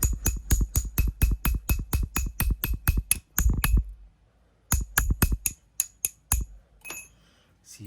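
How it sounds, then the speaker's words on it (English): Sharp metallic hammer strikes on a swedging tool set into copper tubing during beverage center refrigerator repair, a fast run of ringing clinks, a brief pause, then a second, sparser burst of blows, close and loud. "If you swedge it a little bit more, if you hammer it, it's gonna become 1x4."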